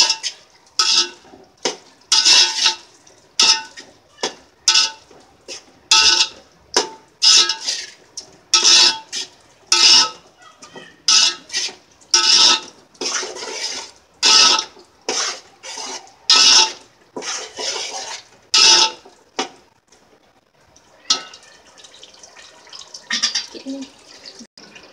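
Spiced keema masoor with red chilli, coriander, garam masala, turmeric and salt is stirred in a pot. Some twenty rhythmic metallic scraping and clinking strokes of the spoon repeat up close, then fade to a softer, irregular stir near the end.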